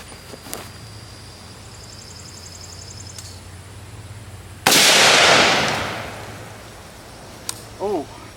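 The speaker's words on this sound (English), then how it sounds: "now we're gonna take another shot at the apple" An AR rifle fired at an apple, one sharp loud crack with a long decaying echo outdoors, preceded by faint clicks and followed by a small click and brief chirp.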